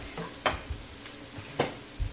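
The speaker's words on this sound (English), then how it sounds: "Just continue stir frying it." A few scraping clinks of a utensil against a pot over a soft background sizzle of curry pineapple shrimp stir-frying, spaced irregularly, close and fairly quiet.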